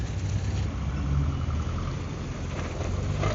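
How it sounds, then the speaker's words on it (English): Vintage Volvo cars roll in on a rainy day, a steady low engine rumble close by with a soft hiss of wet road, running without pause and with no talk. "Vintage cars coming in now."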